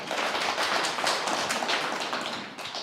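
Audience applause at a Korean business seminar lecture, a dense continuous wash of many hands clapping, loud and steady, tapering slightly near the end.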